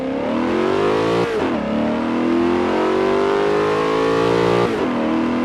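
A Gran Turismo car's engine revs loud and steady in Forza Horizon 5, holding a throaty drone with two quick dips in pitch as it shifts, then climbing again. No one talks.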